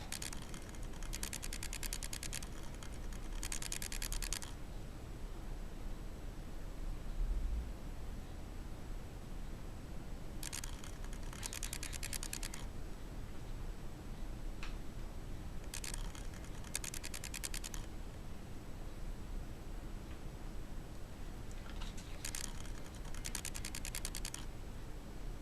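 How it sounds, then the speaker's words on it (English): JB Weld epoxy being mixed for a cigar box guitar build, soft repeated scraping strokes in several short bursts separated by quieter pauses, close and faint over background hiss. "Finish mixing up the second batch of"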